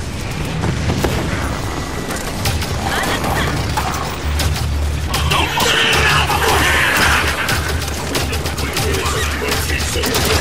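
Halo 5 Guardians gunfire, a loud dense barrage of rapid shots, booms and crashing impacts filling the whole stretch without pause.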